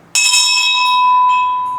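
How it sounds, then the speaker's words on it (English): A single loud bell strike rings out with a sharp attack and a bright, sustained metallic tone that slowly fades over a couple of seconds, close and alone. "it's time for the bell"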